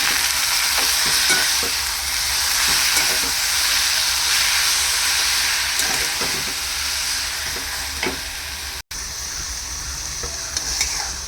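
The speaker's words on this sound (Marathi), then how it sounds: "आता हे सगळं मिक्स करून घ्यायचं आहे आणि गॅसची प्लेट ही आपल्याला जास्त ठेवूनच आपल्याला ही भाजी परतून घ्यायची आहे" Fenugreek (methi) greens stir-fry on high flame, giving a loud, steady sizzle and hiss with repeated spatula scrapes and a brief break near the end.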